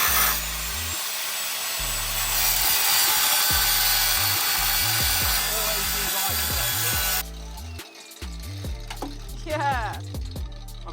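Angle grinder cutting off a bolt on an MX5, a loud continuous high whine for about seven seconds that then stops, followed by scattered clunks and scraping.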